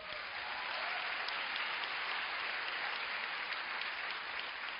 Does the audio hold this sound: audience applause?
yes